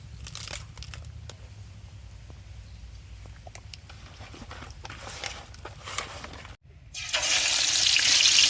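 Kalibaus fish fry in hot oil with a steady crackling sizzle and scattered pops, swelling into a louder, denser hiss toward the end.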